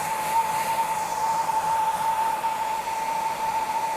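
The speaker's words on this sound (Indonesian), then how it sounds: "sebelum kalian pakai hair dryer kayak tadi tuh" A handheld hair dryer blows air in a steady, loud rush with a thin, constant motor whine held through the whole stretch, close to the listener and without talk.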